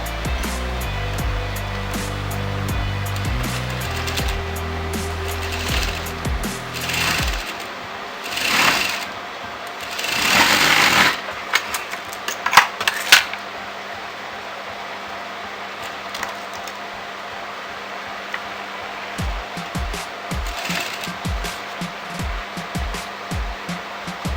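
A sewing machine top-stitches a boat neck blouse with princess cut. It whirs in loud, steady bursts that alternate with quieter handling noises and brief rhythmic stitching near the end.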